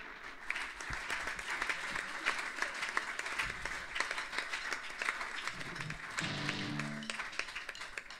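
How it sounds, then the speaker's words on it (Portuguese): A church congregation claps in applause during a Portuguese-language sermon, a moderate crowd with dense, crisp hand claps lasting several seconds, with a brief tonal sound near the end. "Damos um aplauso a Jesus"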